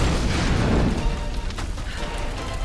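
A loud, rumbling explosion gives way to crashing, tumbling debris in the Tomb Raider game, a dense roar that slowly thins out.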